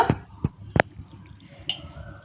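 A little water is added to chopped green chillies, garlic, onion and kharkol leaves, giving a few sharp drips and splashes close by, about four distinct drops spread over two seconds.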